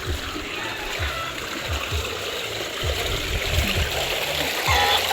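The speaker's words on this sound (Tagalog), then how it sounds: "Ito po yung daan ng tubig oh" Water rushes and trickles steadily through a small channel in a rice paddy, a continuous close wash of flow with low, irregular thumps and splashes beneath it.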